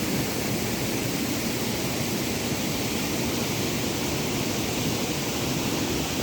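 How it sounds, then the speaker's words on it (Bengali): Steady, dense roar of a monsoon-fed waterfall heard from close by, broadband and unbroken from start to finish. "এটা আসলেই একটি ঝর্ণা"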